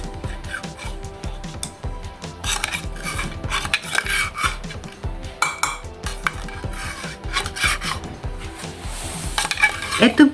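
Metal spoon scraping and clinking against an opened sardine can as the fish is scooped out, with steady close clatter and scraping throughout and a brief sharper metallic clink near the end.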